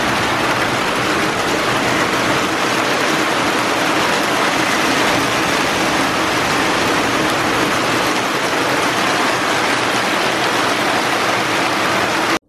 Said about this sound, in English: So we came out here and it's raining.